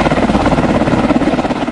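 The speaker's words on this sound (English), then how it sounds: "This is what a standard Black Hawk helicopter sounds like." Black Hawk helicopter rotor noise, a loud steady thumping pulse with an engine roar underneath, continuous throughout with no voices.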